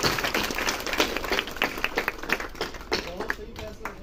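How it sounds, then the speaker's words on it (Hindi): A small crowd claps at an award presentation in a club seminar, with brisk, uneven hand claps spread across a few seconds, close and fairly loud. "सब तालियां हो जाए।"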